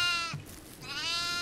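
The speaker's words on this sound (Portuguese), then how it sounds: "por que que você voltou com essa cabra?" A goat bleats in the horror video game Devour: a long, wavering, nasal cry with a brief pause, loud and close, with no talking.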